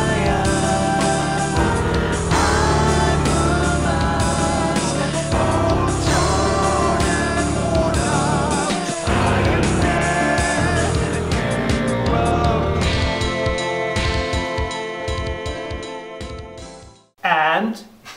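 A crude MIDI demo sketch of a song plays as a dense, loud arrangement for about seventeen seconds, then cuts out briefly before a short final burst.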